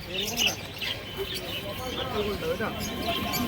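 Madras pigeons at the Birnagar pigeon market make scattered chirps and soft calls amid market chatter, with people talking over the birds throughout.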